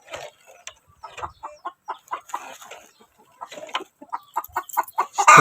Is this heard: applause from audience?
no